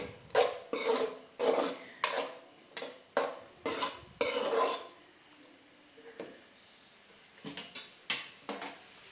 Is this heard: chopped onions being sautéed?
yes